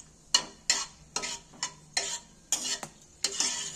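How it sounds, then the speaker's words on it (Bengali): Cloves and cracked cardamom pods stirred in hot oil for a steamed egg curry, a spoon scraping the pan in about eight distinct strokes over a soft sizzle, close and moderately loud, with no talking. "এবার এটাকে তেলটার মধ্যে নাড়াচাড়া করে একটু"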